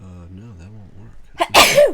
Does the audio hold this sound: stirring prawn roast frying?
no